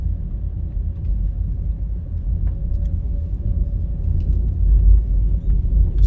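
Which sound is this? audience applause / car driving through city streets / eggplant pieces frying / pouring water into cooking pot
car driving through city streets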